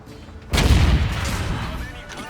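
A sudden heavy explosive boom erupts as a tank round strikes the ammo rack in the tank combat game World of Tanks, followed by a rumbling, crackling decay lasting over a second.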